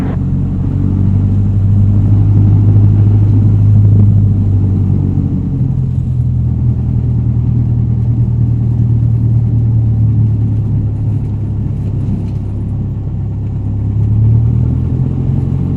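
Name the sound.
light aircraft engine at full throttle during takeoff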